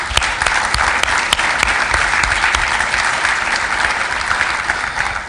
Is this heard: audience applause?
yes